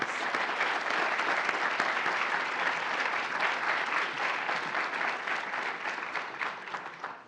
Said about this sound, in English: Let's give a big round of applause for our semifinalists and our award recipients.